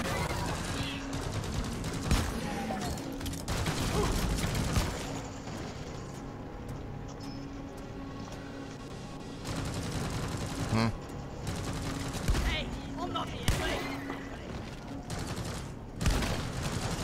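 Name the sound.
sentry turrets firing at swarm in video game Deep Rock Galactic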